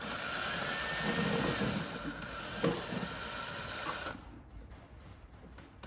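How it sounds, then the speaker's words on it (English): A power driver whirs steadily up close while backing screws out of a C3 Corvette interior panel, with a sharp tick midway and a quieter pause near the end. "now I got to take 4 screws off of this piece"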